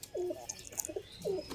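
A pigeon, a parent feeding its chick, coos nearby in two soft rolling phrases separated by a short pause, with faint chirps and light background noise.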